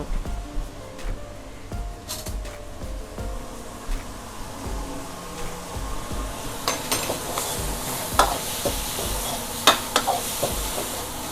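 Drunken shrimp (pad kee mao) being stir-fried in a pan: a steady sizzle runs underneath repeated scraping and clanking of a utensil against the pan, with irregular metallic knocks near the end.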